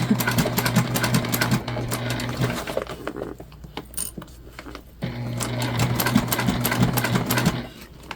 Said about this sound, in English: We are back stitching.